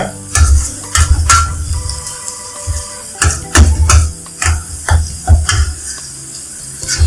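Mutton kidney pepper masala dry roasting in a pan, with repeated loud scrapes and stirring strokes over a steady sizzle, the rhythm of the spatula coming in irregular bursts.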